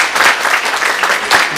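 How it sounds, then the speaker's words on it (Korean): A congregation at a Sunday church service applauds together in a dense, steady burst of clapping that fills the hall. "항상 건강하시라고 우리 박수로 격려드리겠습니다"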